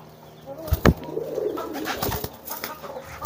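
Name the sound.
pigeon cooing loudly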